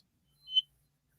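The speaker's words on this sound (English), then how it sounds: "I hear the beep." A blood glucose meter gives a single short electronic beep, faint and brief in an otherwise quiet moment.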